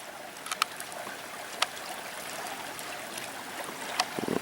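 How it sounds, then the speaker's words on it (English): Small creek running through a rural property in Knox County, Missouri: a soft, continuous trickle and babble of water close by, with a few light clicks and splashes and a brief thump at the end. "Just give you a shot of this kind of nice little creek that's running through here"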